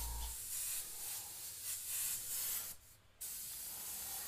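Airbrush spraying pink paint for a custom fire and skull design, a thin, steady hiss that swells and eases with the strokes. It breaks off briefly once, then resumes, quiet and close, with no talking.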